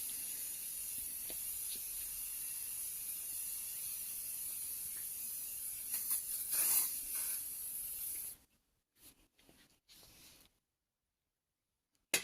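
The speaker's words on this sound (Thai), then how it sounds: "แล้วก็ฉีดข้างใน ข้างหน้าข้างหลังด้วยค่ะ" Leather care spray hisses steadily onto a sofa for about eight seconds, close and continuous, then a few short separate spurts follow before the sound stops.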